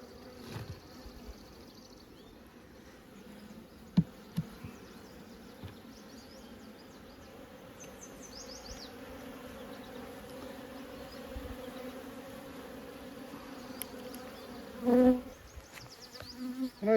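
Honeybees buzz steadily in a dense, continuous drone around an open hive during a queen check, with a few brief clicks and a louder close knock near the end.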